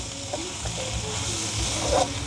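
Onions and dried fish fry in a pan with a steady close hiss and crackle, occasional soft stirring knocks underneath, no one talking.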